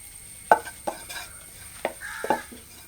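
A spoon scrapes and taps against a pan while chicken masala cooks, giving several sharp, separate strokes at an uneven pace, close and fairly quiet over a steady background hum.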